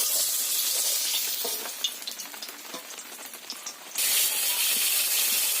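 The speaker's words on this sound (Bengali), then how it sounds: "ঠিক একইভাবে সব মাছগুলোকে এখন আমি ভেজে নিচ্ছি" Fish frying in hot oil in a pan, a loud close hiss and crackle that dips briefly with scattered spits and pops, then surges back to a full sizzle.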